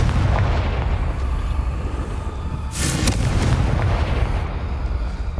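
A Confringo blasting spell goes off in Hogwarts Legacy, a loud explosive burst near the middle of a dense, rumbling game soundscape with no talking.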